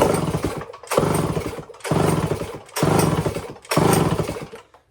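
A Homelite Zip chainsaw, choked and with a clogged fuel supply, is pull-started over and over: five ragged, rasping bursts in a steady rhythm, each dying away without the engine catching, close and loud.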